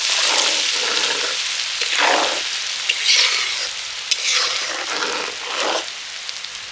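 Chopped ginger and garlic fry in oil for a raw-mango pickle, a close, steady crackling sizzle broken by bursts of stirring scrapes and spatter.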